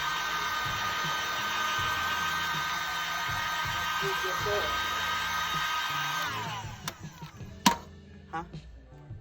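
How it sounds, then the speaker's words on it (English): A heat gun blows a steady, loud whooshing hiss to soften the battery adhesive on an iPhone 6s Plus. It runs continuously for several seconds, then cuts off, leaving a few faint clicks and handling knocks. "we'll use the heat gun one more time to loosen up some of that adhesive"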